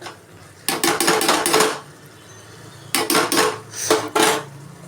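Mushrooms being stirred in a frying pan for pulao, a spoon scraping and clattering against the metal in two or three quick clusters of knocks, close and clear with quiet gaps between.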